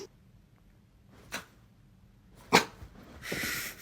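A dog reacts after being barked at, making a few short sniffing or snorting bursts in an otherwise quiet room, the last sound drawn out and breathy.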